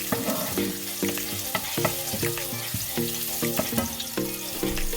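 Garlic, half a cup, sautéing in a pan toward golden brown: a steady close sizzle with repeated scraping stir strokes at an even rhythm, no voices.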